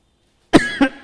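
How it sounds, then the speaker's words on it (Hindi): A teacher with a cold coughs three times in quick succession after a moment of silence, close and fairly loud. "इसीलिए खांसी हो रही है।"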